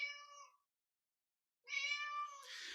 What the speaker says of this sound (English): The sound of the kitty meowing twice means that a slide has changed.